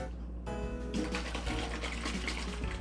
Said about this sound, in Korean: 미지근한 물에 흔들어 섞으세요